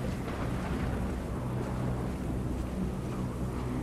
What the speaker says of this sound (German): Gott, ist das ein Sturm.